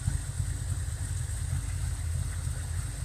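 A Fox Body car engine idles steadily after running for about twenty minutes, a low even rumble that holds at a constant level throughout.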